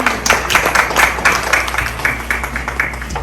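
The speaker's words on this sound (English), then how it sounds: "Can we give her another round of applause?" Audience at an indoor brand expo and networking event in Toronto claps for a speaker, a lively burst of many hands with distinct rhythmic claps, fairly close and steady throughout.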